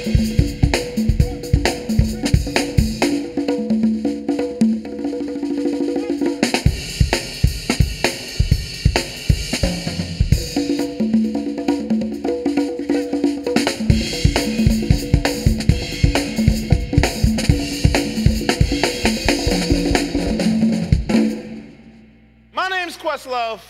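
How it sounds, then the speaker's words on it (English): Bongos and congas played together alongside a drum kit in a steady, driving groove, loud and continuous with brief breaks, ending in a short sweep of a different sound. "we play the drums"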